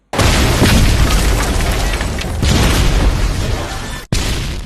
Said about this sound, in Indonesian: bom waktu yang terpasang di sekeliling area tersebut meledak